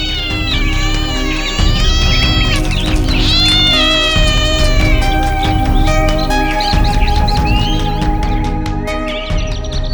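Several cats meow and caterwaul loudly and continuously in overlapping, wavering cries, with high chirping bird-like calls mixed in.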